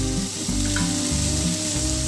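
Ingredients are lightly sautéed with salt in hot oil in a pan for South Indian home cooking, giving a loud, steady, continuous close-up sizzle with no talk.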